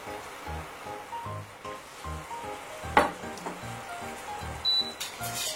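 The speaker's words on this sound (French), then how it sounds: "Là on va faire mijoter quelques minutes." Braised ham in a tarragon cream sauce simmers quietly in a pan, giving a soft, faint bubbling hiss with occasional light clinks of a utensil against the pan.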